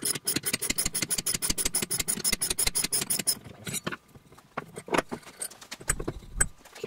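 A 400Hz IMC Magnetics vaneaxial aircraft fan being taken apart: a rapid run of close metallic clicks and rattles, then scattered separate taps and knocks of aluminum parts, with no talking.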